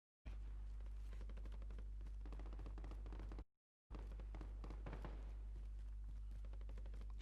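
Rapid automatic gunfire from the Call of Duty Warzone video game, sustained bursts of dense shots that cut off briefly and then resume. The fire is loud and continuous over a low steady hum.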